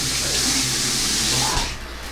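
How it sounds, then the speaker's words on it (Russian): Water splashes and runs from a tap as a face is washed after shaving with a titanium and stainless steel safety razor, a close, continuous hiss of flowing water that thins out toward the end. "Так, ну что, умою лицо наконец-то после двух проходов."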